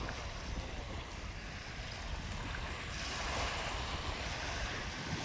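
Strong waves roll and wash steadily at Dolomite Beach on Manila Bay, a continuous rushing surf with wind noise, no voices over it.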